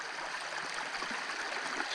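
Mountain spring water in the Carpathians flows in a steady, close gurgling stream, a continuous bright trickle with no voices over it.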